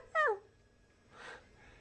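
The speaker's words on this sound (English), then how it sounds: "by making that sound of a dog" A short whimpering dog yip in the video game Persona 3 FES, a single bright wavering call followed by a fainter breathy sound.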